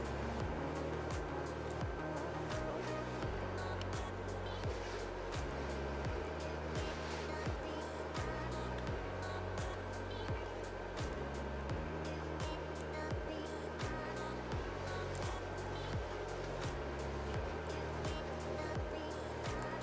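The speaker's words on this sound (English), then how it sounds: "I have a 3D printer printing right now, and so it's making a bunch of noise in the background." A steady mechanical hum with rhythmic stepper motor tones repeating in short patterns from a 3D printer working nearby under a constant fan drone.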